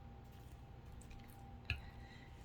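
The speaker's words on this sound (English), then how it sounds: "I get the cotton ball wet. I get most of the water out." Water is squeezed out of a wet cotton ball used as a watercolor painting tool, giving one quiet, brief squish over a soft, hushed background.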